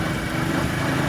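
A motorcycle engine runs with a steady, loud, even drone, close by and unbroken for the whole short stretch.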